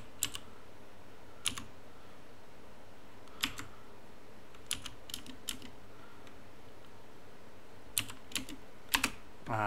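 Keys clack on a computer keyboard in sparse, hesitant clusters of a few taps each, separated by pauses, close and fairly quiet over a faint steady hum.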